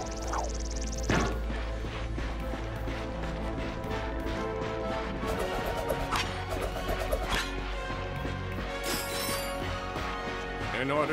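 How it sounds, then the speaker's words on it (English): Ratchet swinging the Omni-Wrench to smash enemies in the 2016 Ratchet & Clank game: repeated sharp whacks and crashes amid busy game music and effects, with dog-like yelps from creatures mixed in. "Ratchet smashed his enemies using his trusty Omni-Wrench."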